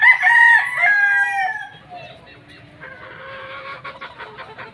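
A straight Sweater bloodline gamecock rooster crows close by, one clear drawn-out call fading off, followed by softer clucking and faint movement.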